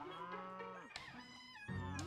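A cow on a farm in the video game Echoes of the Plum Grove gives two drawn-out, wavering moos, fairly close and heard alone against quiet game ambience.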